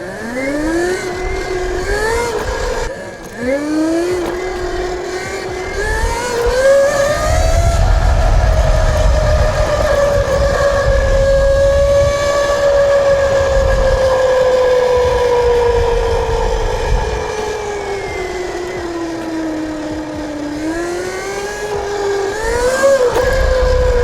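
An electric bike with a high-torque motor, ridden in sport mode, gives a loud rising and falling motor whine that climbs, holds, dips and climbs again over steady wind and road rumble.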